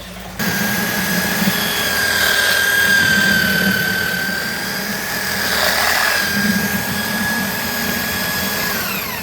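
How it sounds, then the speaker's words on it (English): An ordinary handheld drill fitted with a paddle bit mixer churns concrete with Portland cement added, a loud steady whine that starts abruptly and runs on with slight rises and dips, close by, with no talking. "Now this is a detailed paddle bit mixer on a basic drill."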